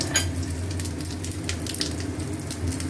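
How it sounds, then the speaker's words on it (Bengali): Dried red chilli, cumin, garam masala and bay leaf tempering in hot oil, a steady close sizzle with crackling bursts and a low hum underneath, no voices. "এবারে ফোড়ন দিচ্ছি শুকনো লঙ্কা, জিরে, গরম মশলা,"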